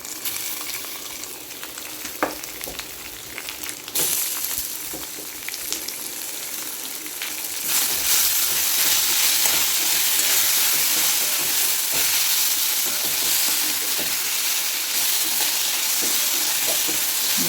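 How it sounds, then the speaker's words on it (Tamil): Raw mango sautés in a pan with coriander, curry leaves and green chillies, first as a quiet sizzle with a few stirs, then a louder, steady hiss once the mango goes in. "நம்மளோட மாங்காயை கொட்டி நல்லா வதக்கிக்குவோம்."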